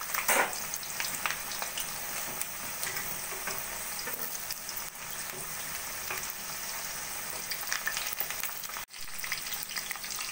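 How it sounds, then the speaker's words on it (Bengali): Boiled potatoes fry in hot oil in a wok, giving a continuous close sizzle and crackle with occasional stirring scrapes and no talking. "কড়াইতে তেল গরম করে নিয়েছি। এবার প্রথমে আমি আলুগুলোকে ভেজে নেব।"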